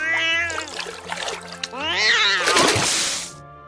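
A cat meowing as a story sound effect, several drawn-out, wavering meows in close succession with a splashing, water-like hiss near the end, loud and near with no talk.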